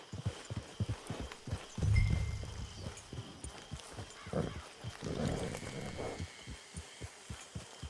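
Horse hooves clip-clop steadily in a video game, a regular rhythmic trot of hoofbeats close by, with brief louder rustling bursts and faint background ambience but no talking.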